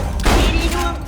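Automated turrets open fire in the shooter game Borderlands: The Pre-Sequel, a quick burst of heavy booming shots rattling together, loud and near, mixed with other battle noise.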